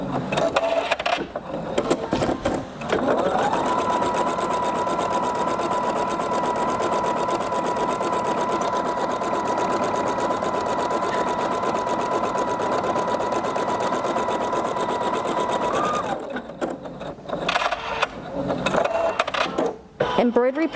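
A Sapphire 85 embroidery machine stitches a long line on a Valentine's mug rug, a steady, loud mechanical whir running unbroken for about thirteen seconds, bracketed by brief handling noises and short pauses at the start and end.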